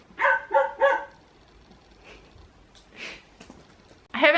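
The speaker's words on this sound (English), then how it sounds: "it was like the sound of the barking of the dog." Three clear, close dog barks in quick succession open the sound, followed by quieter sniffs and faint noises and one more bark at the very end.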